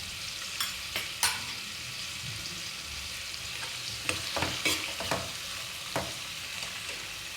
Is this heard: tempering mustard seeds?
yes